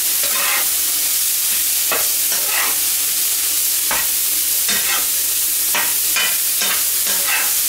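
Vegetables sizzle in a hot pan with a steady frying hiss, broken by sharp scraping clicks as they are stirred at irregular intervals. The sound is close and fairly loud, and no one talks.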